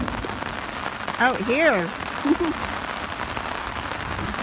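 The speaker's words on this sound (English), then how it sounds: "Camping in the pouring rain and thunder and lightning definitely is better when you've got chocolate and peanut butter." Pouring rain drums steadily on a tent in the Canadian wilderness, a dense continuous patter throughout, with a brief spoken remark partway through.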